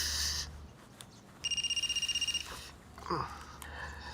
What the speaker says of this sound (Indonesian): Itu ada telepon.